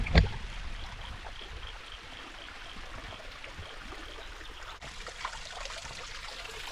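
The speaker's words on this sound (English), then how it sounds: "So this is Strath Creek Falls." Water rushes and trickles steadily at a distance, a soft continuous wash of Strath Creek Falls, a small waterfall, with no voices.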